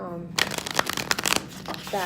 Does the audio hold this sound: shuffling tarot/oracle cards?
yes